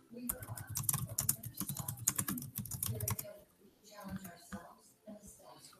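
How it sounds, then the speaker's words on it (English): Rapid clicky keystrokes on a computer keyboard, close and fairly quiet, tap in quick bursts for about three seconds before trailing into sparse taps with soft breathy voice sounds. "I apologize for the silence and the hearing of me typing here"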